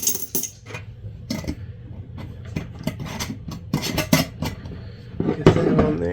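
Loose coins of weekly change are handled and shuffled up close, giving repeated small metallic clinks and rubbing chinks in uneven bursts, with no talking.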